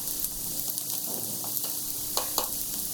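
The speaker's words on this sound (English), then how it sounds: "Saute for 10 seconds until the raw smell is gone." Chili powder and garam masala sauteing in a pan for a soya kofta curry, a steady soft sizzle with occasional light stirring scrapes, close and fairly quiet.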